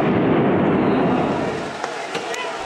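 Firecrackers and flares thrown by anti-government protesters in Serbia make a loud, dense roar of bursts that fades, followed by a few sharp pops, with a news voice speaking over it.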